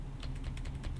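Computer keyboard arrow keys are pressed in quick succession, several light close clicks within about a second.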